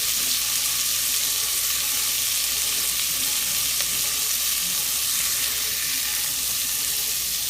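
Chopped vegetables and garlic sautéing in a pot for jambalaya, a continuous even sizzle and crackle held at steady loudness throughout, close up with no voices.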